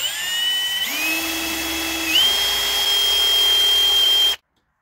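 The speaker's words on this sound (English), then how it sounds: "take the drill, drill right into the side directly in." Power drill boring into the side of a stuck brake rotor screw, a steady whining motor that shifts pitch as it bites into the metal, then cuts off abruptly.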